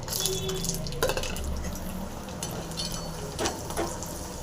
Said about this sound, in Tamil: எண்ணெய் காஞ்சிருச்சு இந்த வத்தலை போட்டுடலாம்